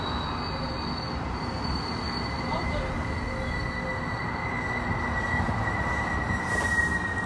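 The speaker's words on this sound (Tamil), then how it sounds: "ட்ரெயின் வந்துடுச்சு." A passenger train pulls into a Canadian station with a steady rumble of wheels on rail and a thin high squeal running over it, moderately close and continuous, with faint voices in the background.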